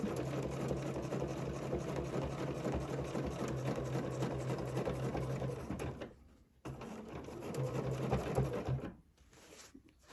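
A sewing machine stitches a placemat with a steady, close mechanical whir that stops briefly twice before running on again.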